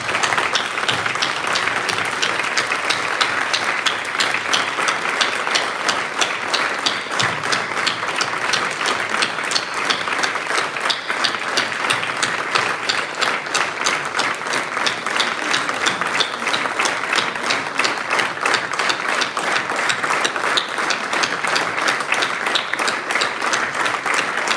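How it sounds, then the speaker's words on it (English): Sustained standing applause from a large audience honoring Narayan Mama at a Founder's Day weekend gathering, dense and loud, continuing evenly for the full length with no talk. "stand up and give him a 1 minute's applause and remember and celebrate Narayan Mama"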